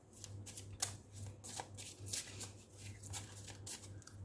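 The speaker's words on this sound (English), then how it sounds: "Now let me take out a few cards from here." Tarot cards are shuffled by hand in a series of quick, crisp riffling bursts and soft slides, fairly close and quiet, with a low steady hum running underneath throughout.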